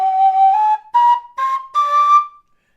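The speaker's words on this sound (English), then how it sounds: "So the Nightingale, I could start on the second octave G" A Nightingale tin whistle plays a clear, loud second-octave G, sounded as a series of four sustained notes separated by short breaks, the pitch rising slightly across the phrase.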